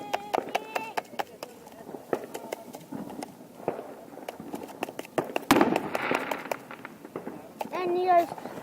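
Fourth of July fireworks pop and crack in a rapid, irregular string of sharp bangs, one heavier blast midway, while voices talk and exclaim over them.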